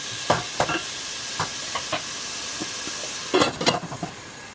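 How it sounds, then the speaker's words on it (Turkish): Finely chopped onion and garlic cloves sautéing in oil in a pot, a steady sizzle broken by scattered scraping stirs and clinks, heavier clustered stirring near the end. "Üzerine ince doğranmış bir adet kuru soğan, 2-3 diş sarımsak ekleyelim ve kokusu çıkana kadar kavuralım."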